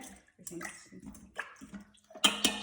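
Fire-roasted tomatoes are stirred into chicken tortilla soup in an Instant Pot, giving soft, wet sloshing and scraping in short, uneven bursts, with a louder splashy stir at the end.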